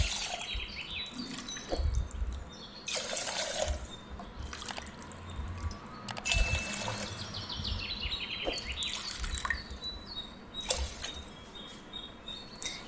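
Water is poured into a pressure cooker holding rice and moong dal, with splashy bursts and trickling in uneven spurts, some louder gushes and quieter dripping gaps between them.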